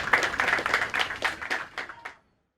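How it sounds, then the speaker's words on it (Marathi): An audience claps in a brief burst of applause that stops abruptly after about two seconds. "खरंच टाळ्या वाजवा तुम्ही त्याच्यासाठी"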